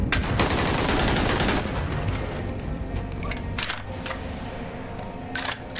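An AK-47 fires in the VR game Bonelab as a rapid burst of sharp shots that blur into a dense roar, then gives way to scattered single cracks and clatter.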